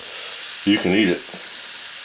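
Deer heart frying with onions in butter in a pan, a constant close sizzle and hiss running throughout while someone briefly speaks over it partway through.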